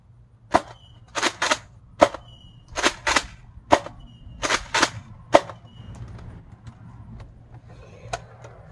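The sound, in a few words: Nerf Fortnite tactical shotgun firing foam darts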